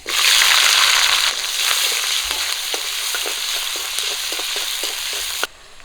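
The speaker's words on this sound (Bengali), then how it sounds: "কাঁচা লঙ্কা আর পেঁয়াজ একটু লাল করে ভেজে নিয়েছি" Loud, steady sizzling of green chillies and chopped onion frying in hot oil left from frying fish, with panch phoron spices, scattered crackles and pops, cutting off abruptly near the end.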